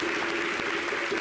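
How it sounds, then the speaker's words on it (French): Studio audience applause fills a brief moment on a television talk show, a dense, even patter of many hands clapping at moderate, distant volume with no voices over it. "Est-ce qu'on peut l'applaudir, s'il vous plaît?"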